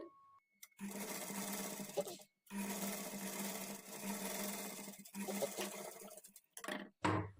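A sewing machine stitches beside the piping on a patchwork blouse neckline in several steady runs of rapid, even whirring, broken by short silent pauses, with no talk over it.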